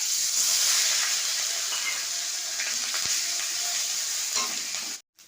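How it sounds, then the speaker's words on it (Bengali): Onion, ginger and garlic paste sizzles and hisses steadily in hot oil after whole cumin and whole garam masala, a constant bright frying crackle with a few faint clinks and no talking. "পেঁয়াজ আদা রসুন ভাজা হয়ে গেছে"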